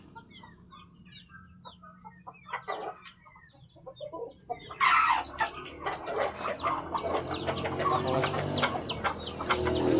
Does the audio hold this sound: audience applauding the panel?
no